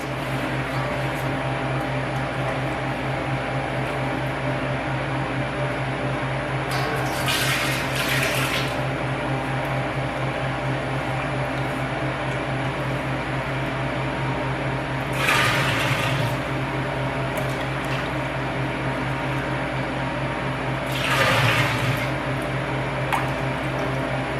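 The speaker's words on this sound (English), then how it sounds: "now we're going to start taking out some of the whey" Liquid whey being scooped and drained from stirred curds during farmstead feta cheesemaking, with three brief wet sloshing and pouring bursts over a steady background hum.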